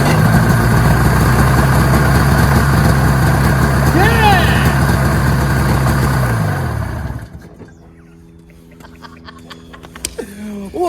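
A Ski-Doo Formula MX snowmobile with a Rotax 467 two-stroke engine idles steadily and loudly, close by, for about seven seconds before cutting out, leaving quieter background sounds.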